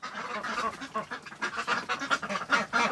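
Several ducks in a cold winter cabin pen quack in short, overlapping bursts, fairly close and moderately quiet, with a constant chatter and no talking.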